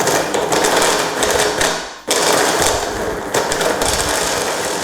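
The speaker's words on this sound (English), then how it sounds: "So let's blend that down to start with." A blender chops chunks of Parmesan cheese in loud, harsh grinding bursts, cutting out briefly for a short pause before whirring on again, close by.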